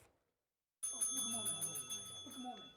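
A quiz bowl bell rings once with a bright, sustained metallic tone while a person talks over it throughout.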